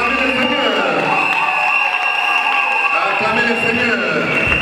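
A church congregation erupts in dense, continuous cheering and clapping, loud and close, with voices calling out throughout and no pause.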